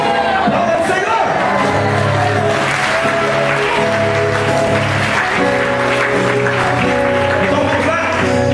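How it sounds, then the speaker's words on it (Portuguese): A church congregation applauding during a sermon: loud, sustained clapping from a large crowd, blended with steady background music and a few voices. "Aplauda o Senhor."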